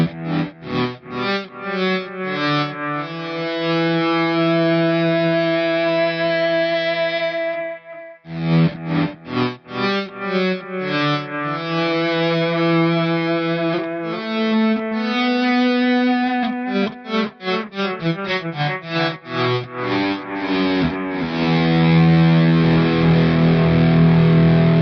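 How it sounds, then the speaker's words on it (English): Electric guitar played through a volume pedal with distortion and chorus effects, notes swelling in and fading out in smooth waves, then sustained layered tones, loud and close with no voices. "with the volume pedal, I can do that sort of thing."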